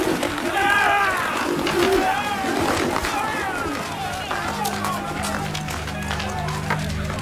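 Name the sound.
pigeons cooing, sound effect in a dramatized Gospel of John reading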